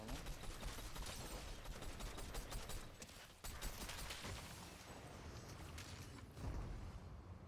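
Dense, continuous gunfire comes from behind in a Fortnite zero-build match as rapid overlapping shots form a noisy fusillade, faint in level and broken by a short gap midway.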